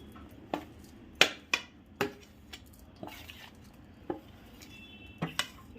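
Ingredients for a nutritious Marathi jaggery-syrup dish finely chopped by hand, a series of sharp, close knife taps on a board in an irregular rhythm, separated by quiet gaps.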